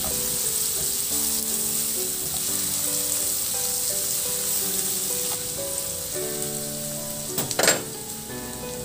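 Garlic sautéing in a hot pan for a Filipino home-cooked dish, a steady loud sizzle that runs throughout, with a brief burst of stirring and scraping near the end.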